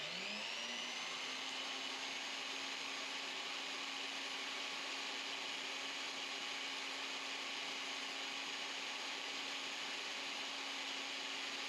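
A Wen spindle sander works a small piece of wood, a faint, steady electric motor whine that starts up and then hums evenly throughout with no talking.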